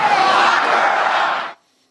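Large political rally crowd in Wisconsin chanting in unison before the candidate takes the stage, a loud, dense roar of many voices sustained for about a second and a half before cutting off abruptly into silence.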